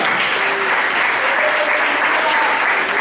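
Church congregation at a salvation night service applauding the Lord, a loud, dense and steady wash of clapping from a large crowd that carries on without a break, with faint voices mixed in.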